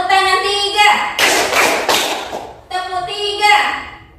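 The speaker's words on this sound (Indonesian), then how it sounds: "Tepuk tangan tiga." A classroom group claps hands three times on a teacher's cue in an Islamic education lesson, producing a loud, close burst of claps between stretches of spoken instruction.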